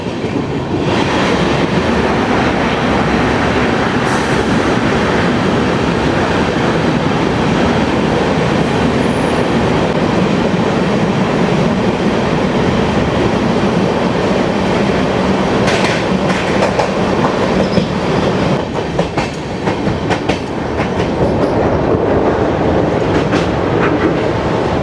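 The 12164 MGR Chennai Central to Mumbai LTT superfast express runs along the track, a loud, unbroken rumble and rattle of rolling wagons with scattered clanks and clatters throughout.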